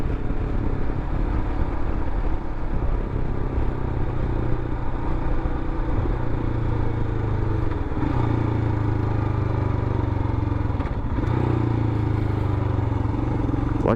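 A 2021 Royal Enfield Himalayan single-cylinder motorcycle engine drones steadily while riding on the street, with low harmonic bands dipping and rising as it downshifts and engine-brakes, loud and close throughout.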